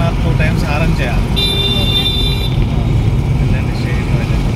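A car horn sounds once in busy road traffic, a sustained honk over the steady roar of engines and road noise.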